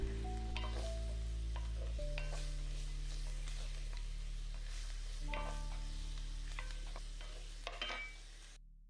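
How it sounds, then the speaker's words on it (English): Turmeric powder being stirred into onions frying in a pot for egg curry, a soft sizzle under repeated utensil clinks and scraping strokes, with steady low background hum. "Then add in turmeric powder and mix them well to combine with onions."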